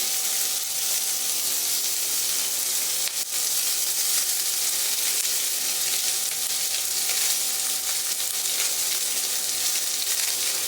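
Chopped onions sizzle steadily in a little oil for a chicken dish, a loud continuous frying hiss heard up close with no talking.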